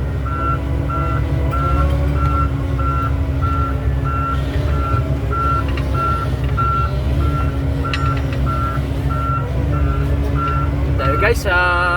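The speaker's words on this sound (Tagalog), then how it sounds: "may dump truck na nag-deliver ng ano po" A dump truck delivering on a road improvement site sends out a steady, evenly spaced string of reversing beeps over a constant heavy engine rumble, with people talking nearby.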